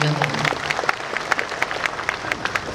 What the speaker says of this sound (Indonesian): Tepuk tangan dulu untuk diri.